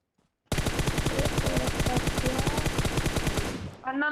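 An MK-14 rifle fires in PUBG Mobile, a loud rapid burst of evenly spaced shots lasting about three seconds before cutting off.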